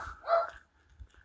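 A farm dog on a rural Cantal farm gives one short bark near the start, a faint yip or two follows, and then quiet outdoor background takes over.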